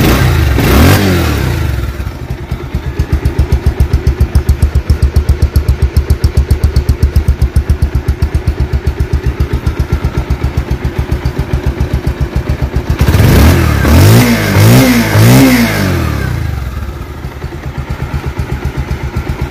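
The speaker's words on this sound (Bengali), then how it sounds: "তো দর্শক আমি এখন দেখাবো স্টার্ট করে সাউন্ড কন্ডিশন দেখি সাউন্ড রয়েছে" A Bajaj Pulsar 150cc single-disc 2022 model motorcycle starts up close and settles into a steady, throbbing idle, then revs up in a few quick rising bursts before dropping back to idle.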